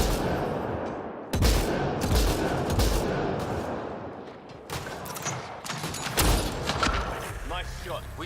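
Bursts of sci-fi gunfire in Mass Effect: Andromeda crack out in several sharp volleys amid combat noise, with voices talking between and over the shots.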